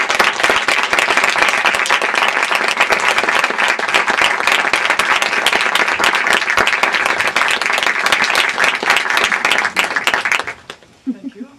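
Loud, dense applause from a full-house audience at a Los Angeles Filmforum screening, welcoming filmmaker Yvonne Rainer, sustained steadily for about ten seconds before tapering off abruptly.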